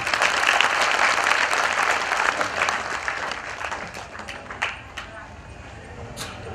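An audience at a satsang gathering applauds a donation made as an offering for the saints, with sustained clapping that slowly fades into a few scattered claps, while a voice speaks over it.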